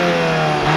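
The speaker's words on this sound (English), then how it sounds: "And those dual exhausts sound okay." A 2022 VW Jetta GLI revs hard through its dual exhaust, recorded from outside the car: one loud, steady, sustained engine roar with a strong low drone and no talking.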